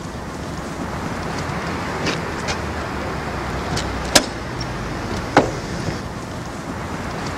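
A car pulling away and driving off outdoors in a TV police drama street scene, a steady engine and road rumble with a couple of sharp knocks, heard alone with no talk.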